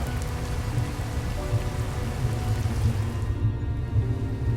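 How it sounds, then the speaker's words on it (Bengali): Heavy rain pours steadily on a train journey through a village area under dark clouds, a dense, even hiss of drops drumming on surfaces that stays loud and continuous throughout. "এই বৃষ্টি তো থামার নামই নিচ্ছে না, একদম অনেক জোরে জল পড়ছে।"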